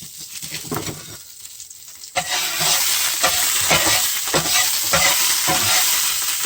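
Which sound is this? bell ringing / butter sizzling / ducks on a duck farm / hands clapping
butter sizzling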